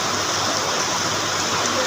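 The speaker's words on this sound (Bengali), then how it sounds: "বাইরে প্রচুর বৃষ্টি" Heavy rain pours outside in a steady, dense, unbroken wash of noise, loud and even throughout the short stretch.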